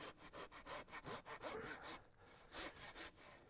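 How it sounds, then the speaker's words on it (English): A handsaw cuts through pig bones during butchering, with faint, rhythmic back-and-forth strokes, about a dozen, that briefly slow midway. "cutting these bones with a handsaw"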